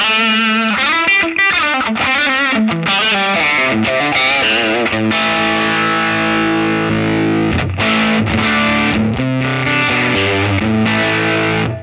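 A heavily distorted electric guitar through a Line 6 Helix Ventoux amp model plays loud, saturated riffs and chords, alternating choppy strummed passages with long sustained notes.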